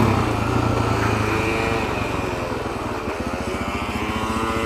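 A Suzuki DRZ400SM dual-sport motorcycle engine idles and putters up close on its own, with a steady, loud, lumpy single-cylinder pulse that slows slightly toward the end.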